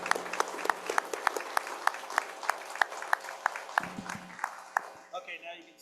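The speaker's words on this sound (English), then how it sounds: "Audience, if you can join me in a round of applause for recognizing them." Audience at a school district board meeting clapping in a sustained round of applause, moderately close and fairly steady, thinning toward the end.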